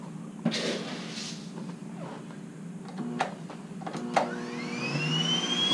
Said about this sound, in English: It's on the lowest setting of the vacuum.